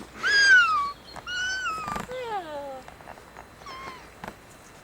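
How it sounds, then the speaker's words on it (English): A small grey cat meows several times outdoors, drawn-out plaintive cries that rise and fall, a couple of close, loud calls followed by softer ones, with faint background noise and no speech. "What's that? A pussycat?"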